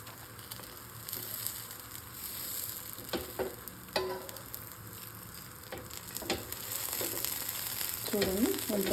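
Buttermilk dosa frying on a hot pan, a soft, steady sizzle with a few sharp spatula scrapes and taps as it is spread and folded, close, with someone talking over it near the end.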